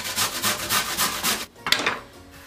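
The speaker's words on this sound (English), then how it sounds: "You can either grate it like this or you blend it" Peeled potatoes are rubbed against a grater in quick, rhythmic rasping strokes, close and fairly loud, ending with a few softer scrapes; no speech is heard.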